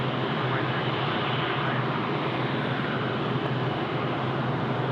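An airliner departing Sydney Airport produces a loud, steady jet engine roar that holds evenly throughout, heard from a distance with no talk over it.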